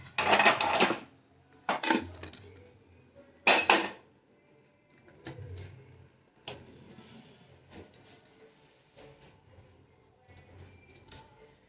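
Sweet suji appe being lifted out of an appe pan, a few sharp metallic clinks and scrapes early on, then quieter scattered taps and knocks at close range.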